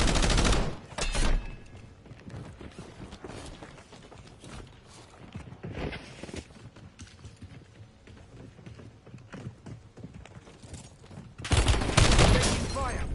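Bursts of gunfire in a military shooter video game, loud volleys at the start and again near the end, with sparser scattered shots and ambient battle noise in between.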